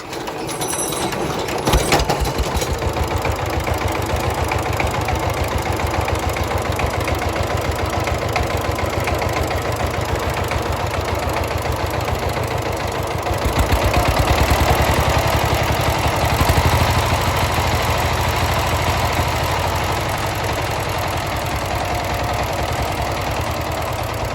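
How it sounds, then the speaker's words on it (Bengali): A small 16-horsepower air-cooled diesel engine runs steadily with a rapid, even chugging beat, loud and close, with a slight surge partway through. "চলুন আপনাদেরকে স্টার্ট দিয়ে ইঞ্জিনের সাউন্ড কোয়ালিটি শোনাই"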